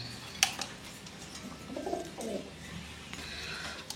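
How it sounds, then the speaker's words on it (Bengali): Pigeons at a home pigeon farm, including German long-face birds, coo softly in low rolling calls around the middle, with a sharp click and faint rustling nearby and no talk. "এখানে কিন্তু আরও এক জোড়া কবুতর আছে মাশাআল্লাহ, খুবই সুন্দর।"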